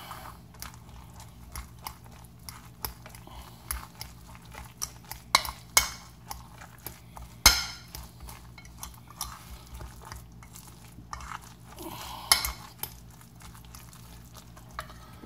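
A cauliflower patty mixture with shrimp is stirred in a bowl, producing faint, intermittent scrapes, soft squelches and light utensil clinks against the bowl, close up in a quiet kitchen.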